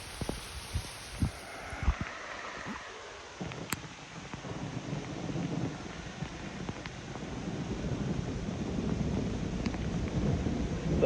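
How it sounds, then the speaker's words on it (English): Thunder rumbles low and distant during a rainstorm, with a few dull booms and a sharp crack, then a steady wash of rain and wind that slowly grows louder. "Thunder."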